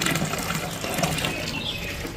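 Water pours and splashes steadily outdoors in a continuous, full-bodied rush with no pauses.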